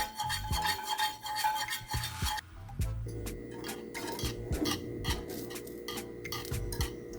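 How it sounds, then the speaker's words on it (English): A spoon stirs coconut milk pudding in a pot over very low heat, making repeated close metallic scrapes and rubs against the pot in an uneven rhythm. "Very low heat, and I'm just stirring."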